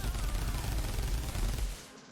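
A Tommy gun fires as a rapid, continuous burst in a Minecraft superhero mod, giving dense, loud automatic fire with no gaps that tails off at the end.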